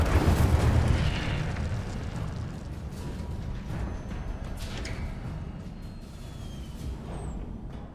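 Incendio fire spell cast in the Hogwarts Legacy video game, a rumbling whoosh of flame that starts loud and fades into a low roar with faint crackles, without talk.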